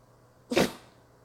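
A single short, sharp sneeze bursts out once against a quiet background.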